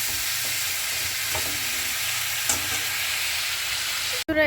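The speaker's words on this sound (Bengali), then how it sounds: "এই যে উচ্ছ ভাজাটা এখানে হচ্ছে" Bitter gourd sizzling steadily as it fries in a pan, a continuous close hiss with a faint clink partway through and a sharp knock at the very end.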